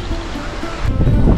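Sea waves wash over an intertidal shore on the Konkan coast, a soft, continuous surf that swells louder toward the end, with faint voices underneath.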